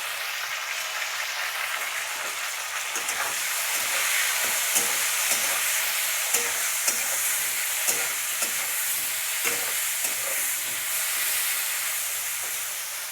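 Chopped tomatoes hit a hot pan for a simple Bengali soyabean curry, a bright hissing sizzle with soft scraping stirs recurring through it, close and steady with no voices.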